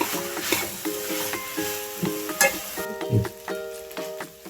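Raw banana pieces stirred in a frying pan for a curry, with soft sizzling under repeated scraping strokes and utensil taps in an uneven rhythm, close and fairly quiet.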